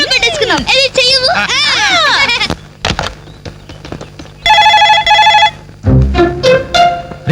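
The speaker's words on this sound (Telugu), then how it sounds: "రింగ్ అవుతుందిరా." A telephone rings indoors in a comedy film scene, its electronic ring standing out in a steady burst amid music and speech, with people talking around it.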